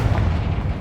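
Confringo blasting spell detonating in Hogwarts Legacy, a single heavy, rumbling explosion that stays loud and booming through its short length, close and without any talk.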